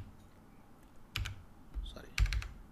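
Bursts of typing on a computer keyboard while entering numbers into network settings, a few separated clusters of close, crisp key clicks with quiet pauses between them.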